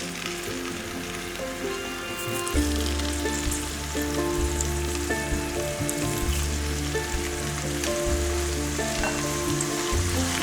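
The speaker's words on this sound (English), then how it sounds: "now I am going to add the potatoes and I am going to fry it" Potatoes frying in hot oil for mutton biryani, a steady close sizzle and crackle that holds continuously throughout, with occasional soft stirring and no voices.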